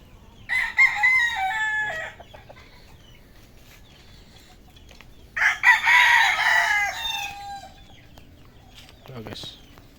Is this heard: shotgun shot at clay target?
no